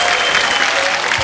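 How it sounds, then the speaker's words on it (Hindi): Loud, steady applause from a studio comedy-show audience for a singer named Saina, continuous dense clapping throughout. "साइना के लिए जोरदार तालियां"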